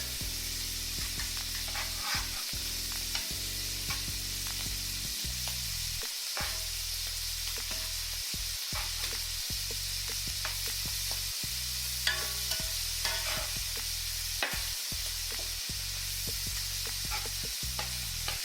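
Shrimp sizzle steadily in a hot pan for creamy shrimp pasta, with repeated soft scrapes and taps as pieces are gently flipped one by one; no one speaks.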